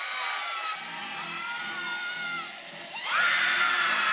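A crowd on the Chippewa bench at a college gymnastics meet cheers for a gymnast, a faint, steady shouting that rises sharply near the end.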